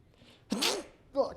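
A single sharp human sneeze bursts out close and loud, followed a moment later by a brief voice.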